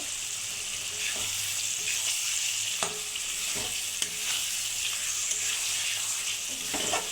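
Cut pieces of nihere fish frying in a pan and being stirred, producing a loud, continuous sizzle with a few sharp spatula knocks and scrapes scattered through it.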